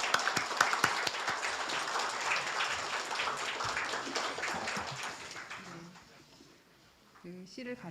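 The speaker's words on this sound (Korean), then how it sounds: "큰 박수 부탁드립니다" Applause fills a literary award ceremony hall, a dense, distant spread of many hands clapping that fades away, followed by a voice beginning to speak.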